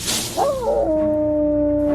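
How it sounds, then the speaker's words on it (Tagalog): A creature's dog-like howl in a dramatized horror story rises sharply and then holds as a long, steady, loud wail over a dark low background. "bigla na lamang itong umalulong na parang aso"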